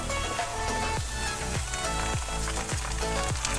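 Ginger garlic paste frying in hot oil makes a steady close sizzle, broken about once every half second by spatula strokes scraping through the pan, with no voices.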